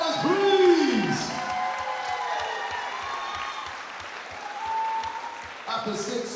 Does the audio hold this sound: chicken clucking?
no